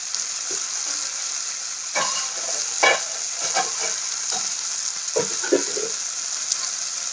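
Okra curry sautéing in a pan: a continuous close frying sizzle with intermittent scraping stirs of a spatula, steady and unaccompanied by talk.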